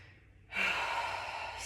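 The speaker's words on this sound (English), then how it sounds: "Take a moment here to breathe" One deep, slow breath taken during a calm yoga practice, close and clear: a soft lead-in, then a long, breathy exhale that carries on to the end.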